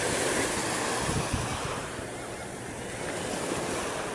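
Steady surf washes onto a beach at Naic, Cavite, a continuous broad roar of breaking waves mixed with wind buffeting the microphone, with no talk.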